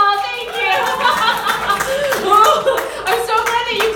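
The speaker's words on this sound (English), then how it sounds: "I'm so glad that you clapped" An audience claps at a live comedy improv show, a short, moderate burst of hands that fades and returns while a performer keeps talking over it.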